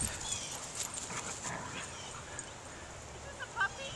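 A young dog herding a golden retriever gives soft whimpers and small yips in a noisy outdoor setting, with people talking over it.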